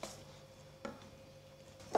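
Knife cutting shallots in half on a cutting board in a kitchen, three sharp separate taps spaced across the moment, the last loudest, otherwise quiet.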